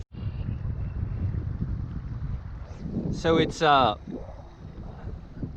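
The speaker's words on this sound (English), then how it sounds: "really windy, thunderstorm rolled through" Strong wind buffets the microphone at a trout river in Durango, Colorado, after a thunderstorm, a steady low rumble throughout with someone speaking briefly near the end.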